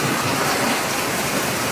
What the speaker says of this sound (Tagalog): lakas ng ulan mga kabisnes